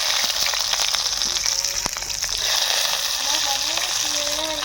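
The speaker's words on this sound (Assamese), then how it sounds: "বেঙেনা ভাজিম" Eggplant slices frying in gram flour batter in hot oil, probably at an outdoor courtyard cookout, give a steady, close, continuous sizzle with faint crackles throughout.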